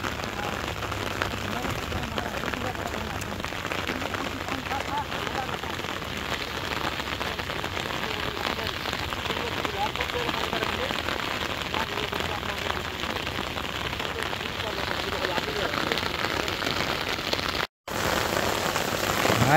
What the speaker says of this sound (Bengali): বৃষ্টিতে মুষলধারে বৃষ্টি হইতেছে